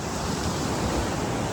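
Sea waves surging steadily at Chivla beach on the Konkan coast, a continuous broadband wash of surf with wind rushing across the microphone and no voices.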